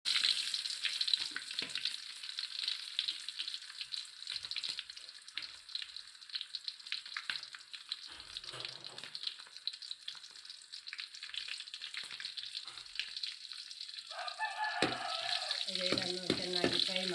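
Mustard seeds, onion and red chili fry in hot oil with a steady, fairly loud sizzle and crackle, shifting near the end into clattering and a brief tap-water sound.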